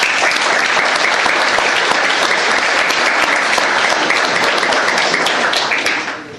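Loud, sustained applause fills a county commissioners court as employees are thanked for years of service, many hands clapping densely without a break before tapering off at the end.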